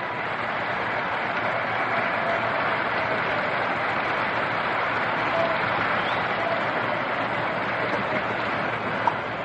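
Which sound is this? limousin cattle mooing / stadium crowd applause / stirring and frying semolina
stadium crowd applause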